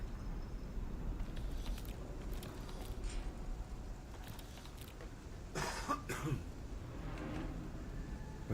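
A couple of short, muffled coughs break through steady background rumble in the game Dune Awakening, close by and fairly quiet, with no talking.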